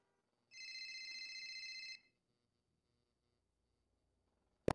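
A phone in GTA 5 roleplay rings once in a bright, steady electronic tone lasting about a second and a half, then stops, leaving near silence before a brief sharp click at the end; no one speaks.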